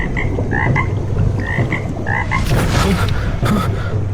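A green frog croaks in short, repeated bursts, fairly close, over a low background hum from the surroundings.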